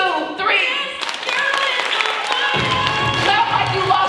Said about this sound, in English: I want you guys to just start clapping for no reason at all